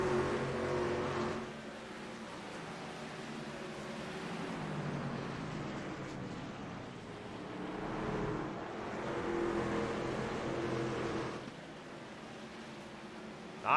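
Race cars in the Apex sim racing game at Martinsville, running as a tight pack. Their engines drone steadily at moderate distance, swelling and fading as the group circles the short oval, with no talk over them.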